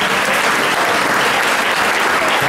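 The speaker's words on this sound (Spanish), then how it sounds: "Un fuerte aplauso." Loud, sustained crowd applause at a village festival coronation ceremony for a queen and her court in El Picazo, a dense continuous wash of many hands clapping with no gaps.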